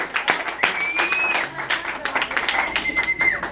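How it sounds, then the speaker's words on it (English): Crowd applauding at an open mic comedy night, scattered uneven clapping with sharp individual claps and voices over it, fairly close and loud. "big round of applause for Marc Cheever."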